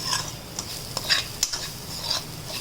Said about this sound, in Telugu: కారం అండ్ కొంచెం ధనియాల పొడి అంతే వేసి మనం ఒకసారి మిక్స్ చేసుకోవాలి దీన్ని